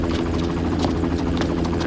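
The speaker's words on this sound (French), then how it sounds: "vous pouvez monter à bord de notre hélicoptère." A helicopter's rotor and engine drone loudly and steadily throughout, a dense continuous thrum heard near and alone, with no speech.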